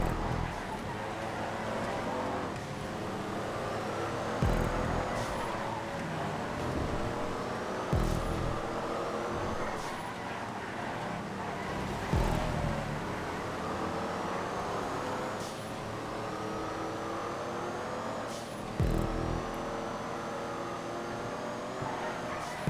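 Racing car engines in GTA 5 on hilly roads, Sterling and Z-Type cars droning steadily and continuously with occasional gear-shift bumps and revving surges, no voices.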